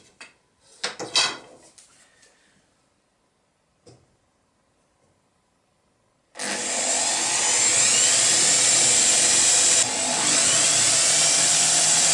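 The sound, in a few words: drilling three screw holes in a toy sailboat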